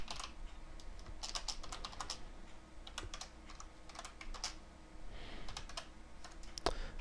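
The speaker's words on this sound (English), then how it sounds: "Can't type today, my keyboard's being kind of funky." Fast, uneven clicking of a computer keyboard, which is acting up, goes on close and steady for several seconds, with bursts of keystrokes and brief pauses and no talk.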